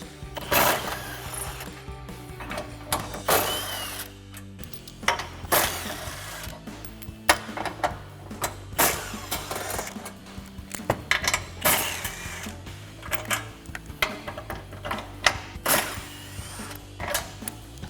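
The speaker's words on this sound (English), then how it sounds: "Just take a 15mm swivel socket and remove all these bolts." A 15mm swivel socket ratchet removing fog light bolts on a 2014-2015 GMC Sierra 1500, with repeated bursts of ratchet clicking and metallic clanks separated by short pauses, close up with no talking.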